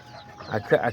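Miniature Azteca and serama hens give a couple of short, close clucks in quick succession.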